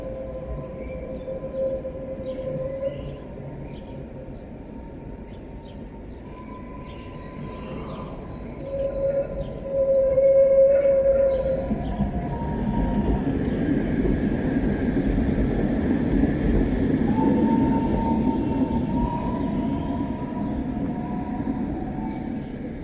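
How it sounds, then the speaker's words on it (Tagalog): A train passes at a busy city station in the Czech Republic, with a rising rumble that builds loud and steady in the second half, and faint tonal whines and hum earlier on. "Ayan na yung isang train pa."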